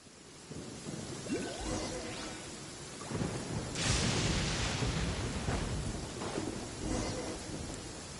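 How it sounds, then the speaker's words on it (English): Thunder rolls through a lightning storm in Genshin Impact over steady rain, with a low rumble building and then a loud, bright crack midway that fades into a long, noisy roll. "Uh-oh! Lightning storm!"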